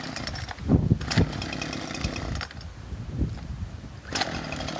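A chainsaw running near and loud, revving in repeated surges as it cuts through roots while work on a tractor goes on around it.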